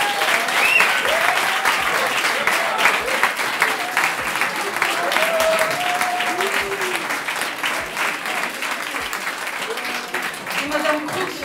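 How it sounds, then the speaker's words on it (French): A school audience applauds at a ceremony, steady and dense clapping lasting throughout with a few scattered voices and shouts mixed in. "vous pouvez encore applaudir tout le monde"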